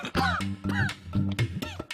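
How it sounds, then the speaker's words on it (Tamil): Harsh, rattling coughing fits, likened to stones shaken inside a plastic tin, come in three or four bursts over two seconds, each with a rough, throaty rasp and close and loud in a household setting. "பிளாஸ்டிக் டப்பாக்குள்ள கல்ல போட்டு உலுக்குன மாதிரி கட கட கடன்னு ஒரே இருமல்"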